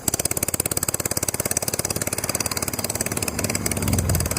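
A vehicle engine running rich chugs with a fast, steady, pulsing idle, loud and close, roughening slightly toward the end.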